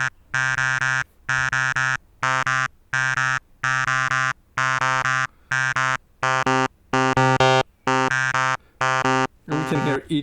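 Synthesizer voices with through-zero FM and mod depth turned up sound bright, buzzy and harmonically rich, played as a series of repeated sustained notes about a second each, separated by short gaps and loud.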